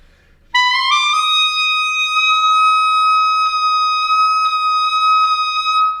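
Clarinet sustaining a high F, first slightly flat and then nudged upward in pitch by fork fingering, one long clear steady tone played solo with no talking.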